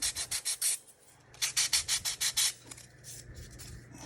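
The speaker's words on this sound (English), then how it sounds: "sand off the little nubs" Sandpaper rubbing the small nubs off a Craftsman model kit part, close rhythmic scratchy strokes in two quick bursts of about five passes each, then softer scraping in a quiet room.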